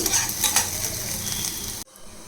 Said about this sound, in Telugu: నెక్స్ట్ ఉల్లిపాయలు ఈ బాగా వేగాలి కొంచెం